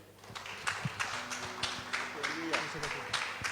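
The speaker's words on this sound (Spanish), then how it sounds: "Le damos un fuerte aplauso de ahí." A church congregation claps in a steady rhythmic beat for the pastor, the repeated claps evenly spaced and moderately distant, with voices talking over them.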